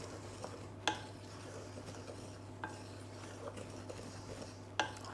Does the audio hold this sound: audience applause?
no